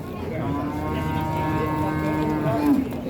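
Cattle at a busy cattle market low in a long, continuous moo that sustains and wavers for several seconds, close and loud over a crowded background hum of the market.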